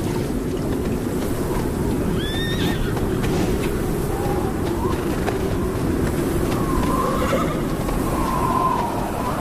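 Wild horses in the Namib desert neigh in a few high whinnies against a steady, dusty wind-like rumble, with no voices.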